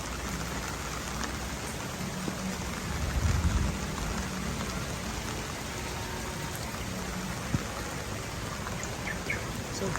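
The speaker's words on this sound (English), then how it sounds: "It's raining quite hard." Heavy rain pours steadily on an outdoor park walkway at Aviary Park Bintaro, a dense, even hiss of drops on surfaces that swells slightly midway, with no voices.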